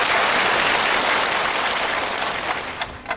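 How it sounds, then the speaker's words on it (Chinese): Studio audience at a Chinese television variety show breaks into loud, dense applause that holds steady before thinning out at the end. "掌声欢迎他们"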